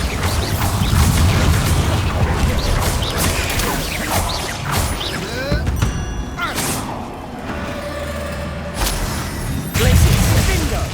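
Bombarda explosion spell detonating during a spider fight in Hogwarts Legacy, loud crashing thuds and whooshes amid chaotic battle noise, with a fresh impact near the end; voices speak over it.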